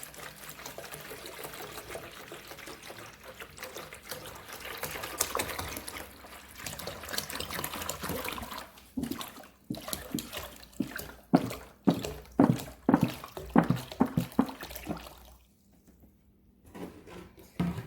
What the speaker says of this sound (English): we're going to pour our distilled water right into the cooler